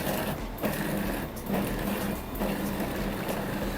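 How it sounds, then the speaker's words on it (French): A food processor runs on chicken meat in a series of pulses, a loud, close whirring motor with rhythmic dips roughly every second as the blades churn the flesh. "je commence par donner des petites poulses et après je mixerai à fond tout à l'heure"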